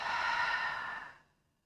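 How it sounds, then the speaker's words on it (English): During a yoga breathing exercise, a person exhales out through the mouth in a single steady, breathy whoosh. It is close and clear, then tapers off into silence. "Take a breath in through the nose. Exhale out through the mouth."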